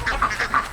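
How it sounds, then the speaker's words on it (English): Ducks at a working farm in a Georgia state park quack in four quick, evenly spaced calls, close and clear over light background noise. "Poor ducks."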